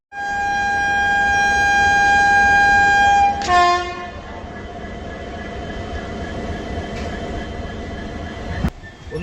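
Guwahati Intercity Express 15675 departing platform 5 at NJP railway station: a loud, sustained horn blast, then the steady low rumble of the moving train, with a sharp clank near the end.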